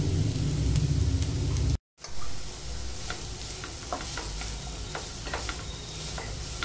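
Cabbage, carrot and capsicum sizzle steadily in a hot pan, a loud close hiss broken by a short cut and the scrape and clatter of stirring.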